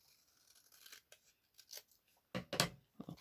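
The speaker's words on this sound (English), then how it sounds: "I think I need to trim them off just a tad more" Scissors snip through paper pockets for a junk journal page, a few soft cuts followed by a louder, closer crunching cut near the end, with no talking.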